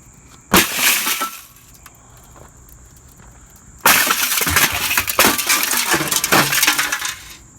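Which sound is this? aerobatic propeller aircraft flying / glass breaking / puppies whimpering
glass breaking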